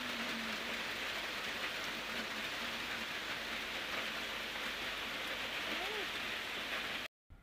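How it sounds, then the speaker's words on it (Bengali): Steady rain pours outdoors, a dense continuous hiss that stays even throughout before briefly cutting out at the end. "বলতে বলতে দেখো বৃষ্টিটা চলেই এলো"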